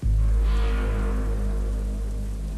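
Steady, dense rain pouring down close by, a continuous heavy hiss with a low rumbling undertone and no voices.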